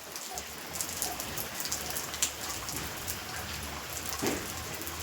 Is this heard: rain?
yes